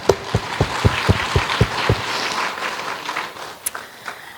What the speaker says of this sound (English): So I'd like to give them another round of applause.